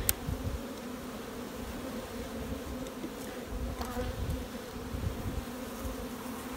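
Honey bees on hive frames, being lightly smoked during queen rearing, give a steady, close, dense buzzing hum throughout, with no talk.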